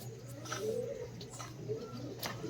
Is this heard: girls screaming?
no